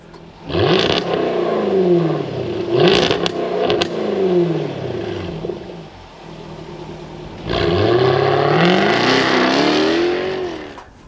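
A stock Jaguar F-Type R engine revs hard in three bursts, each rising and falling with a raw, raspy roar, close by with brief pauses between.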